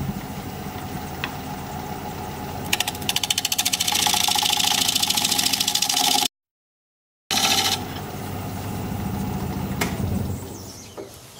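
Wood lathe turning a plum crotch live edge bowl, a steady motor hum with a rapid rattling chatter from vibration as the tool cuts, interrupted by a short silent gap before the whirring resumes.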